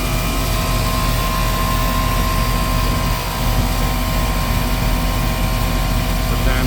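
An air conditioning unit in the field, charged with R22 refrigerant, runs with a loud, steady broadband whoosh and hum of fan and compressor, constant throughout with no talk over it.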